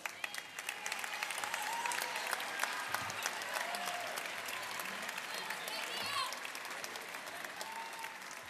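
An audience claps for a university delegation at a university sports games opening ceremony, steady far-off applause with scattered whistles and shouts, and a voice on the PA faintly audible underneath.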